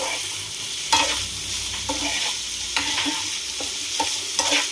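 Chicken frying in a pan as a homemade pizza topping, a steady close sizzle broken by repeated spatula scrapes and knocks against the pan.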